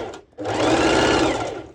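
Close, loud sewing machine running a straight stitch on fabric layers for pole dance shorts, a brief pause then a steady, fast whirring burst that holds to the end.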